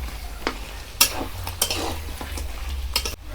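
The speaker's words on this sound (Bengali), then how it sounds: "পোড়া করে রাখা লঙ্কাটা দিয়ে দেব, দিয়ে ভালো করে মশলাটাকে কষিয়ে নেব" A spice paste with charred onion, garlic and chili fries in a pan, making a low sizzle broken by several sharp stirring scrapes and clinks of a utensil against the pan, close and unaccompanied by speech.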